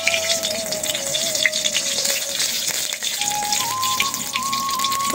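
Bay leaves sizzle in hot oil in a wok while khichuri is being started, a close, continuous crackling fry under a faint steady tone.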